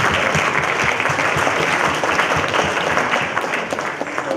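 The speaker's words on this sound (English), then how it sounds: "let me just offer a round of applause to all of them" A round of applause from attendees at a class reunion, dense and sustained clapping filling the room with no speech over it.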